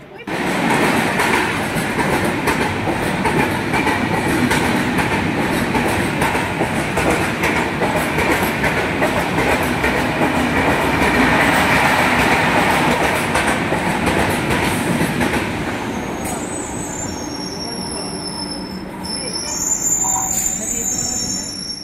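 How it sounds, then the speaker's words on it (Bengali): A local train runs on the rails between Dakshineswar and Howrah in Kolkata, giving a loud, continuous close-up rumble with wheel squeal and rattling joints that eases slightly near the end, with faint voices in the carriage. "তারপরে ট্রেন ধরে যাবো"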